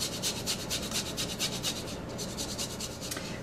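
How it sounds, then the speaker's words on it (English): Peeled fresh ginger rubbed against a kitchen grater, a quiet rhythmic rasping of repeated back-and-forth strokes, close up with no speech. "I'm going to grate a 1-inch piece of fresh ginger in here."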